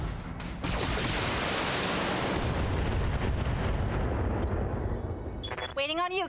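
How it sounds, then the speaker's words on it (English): Mech weapons fire in the Battletech strategy game: a loud, sustained roaring barrage of blasts and rumbling impacts lasting several seconds, ending with short electronic beeps and tones. "we'll fire without sensor lock."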